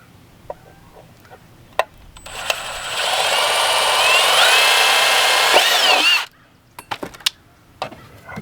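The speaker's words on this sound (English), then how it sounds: "pre-drill hole." A power drill whirs steadily for a few seconds while drilling a pilot hole, pitch shifting slightly as it bores in, with light clicks and taps before and after.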